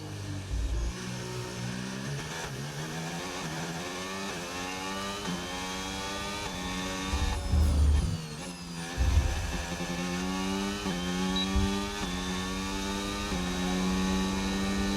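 Formula 1 car engine in the F1 25 video game during a free practice session at the Chinese Grand Prix, a steady high-pitched whine rising through repeated gear shifts, with a brief louder burst midway, continuous and close.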